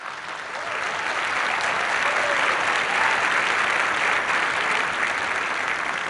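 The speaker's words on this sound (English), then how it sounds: "He sure deserved this applause" Sustained applause from a large audience at a United Nations event honoring the Israeli ambassador, a broad, loud and steady roar of many hands clapping that holds evenly throughout.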